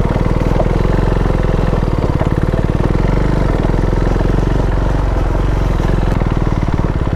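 A KTM Duke 390 motorcycle climbs uphill, its engine running with a steady, loud, even pulse throughout, heard close up and unbroken.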